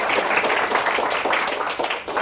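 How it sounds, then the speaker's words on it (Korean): A forum audience gives a burst of applause for a speaker on Swedish welfare society. The clapping is dense and continuous from start to finish, with no talking. "여러분 뜨거운 박수 보내주십시오."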